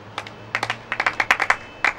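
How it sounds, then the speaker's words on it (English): A small group of classroom pupils clap for a classmate after a simple spelling exercise, a quick run of sharp, fairly close handclaps in an uneven rhythm over about two seconds, with no talking. "Clap for her."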